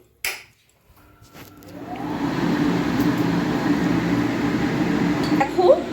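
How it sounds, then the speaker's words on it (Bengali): A kitchen chimney exhaust hood over a stovetop switches on after a sharp click and ramps up into a steady, broad whooshing hum that fills the room, with oil heating in a pan nearby. "চলো চিমনিটা চালিয়ে দিই"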